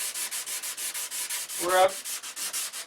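Primer on a model's nose is sanded by hand in quick, even back-and-forth strokes, roughly six per second, a close rasping rub that continues throughout with one brief lower scrape in the middle.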